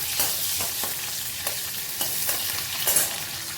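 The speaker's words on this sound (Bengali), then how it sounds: "আগে পেঁয়াজগুলো একটু ভাজা ভাজা করে নেব।" Chopped onions sizzle in hot mustard oil as a utensil stirs them with quick scraping taps; the frying hiss is loud, close and steady with no talk.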